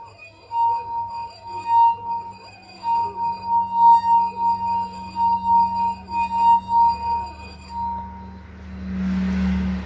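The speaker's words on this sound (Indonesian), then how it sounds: "Lalu, usap jari ke bibir gelas." A wet finger rubbed around the rim of a glass three-quarters full of water, producing a sustained ringing tone that swells and pulses with each circling stroke, clear and fairly loud, fading near the end into low rumbling noise.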